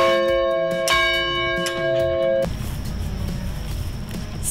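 A brand-new campus bell at a university rings out loud and close, with a few clear resonant strikes whose tones hang on before giving way to a steady broad wash of noise.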